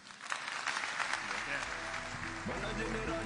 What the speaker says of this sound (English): One big round of applause for these young people